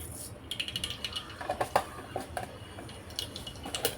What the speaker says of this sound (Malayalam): എണ്ണ ചൂടായി വന്നിട്ടുണ്ട് അതിലേക്ക് നമുക്ക് ആവശ്യത്തിനുള്ള കടുകിട്ട് പൊട്ടിക്കാവേ